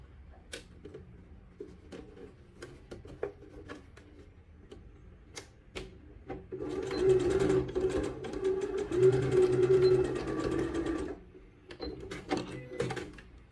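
A sewing machine stitches a seam on tailored trousers in a sustained whirring burst through the middle, framed by scattered clicks and taps of fabric handling before and after.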